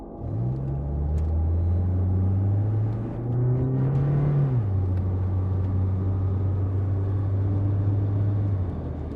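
Car engine running and pulling away in a horror story scene, a steady low rumble with a rising rev midway that settles back into an even drone, close and continuous.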